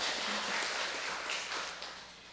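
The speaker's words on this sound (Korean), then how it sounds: "다시 한번 박수." Applause from a gathered congregation at a memorial rite for Korean War dead, a dense steady patter of many hands at moderate distance that thins slightly toward the end.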